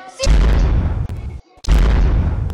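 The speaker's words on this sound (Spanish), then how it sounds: "Explosiones." Two loud, booming explosions follow one another closely, each a heavy low rumble that decays, separated by a short quiet gap.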